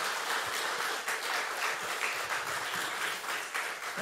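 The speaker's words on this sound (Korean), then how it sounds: "우리 큰 박수로 우리 고야곱 선교사님 환영하겠습니다" A church congregation claps loudly and continuously in welcome for a visiting missionary, a dense, even applause filling the room for several seconds.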